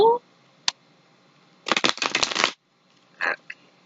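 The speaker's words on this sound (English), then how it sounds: "Alright, one more shuffle." Tarot cards are shuffled in a few quick bursts, with a brief tap, a dense riffling flurry, then a short final shuffle, all close and crisp amid quiet pauses.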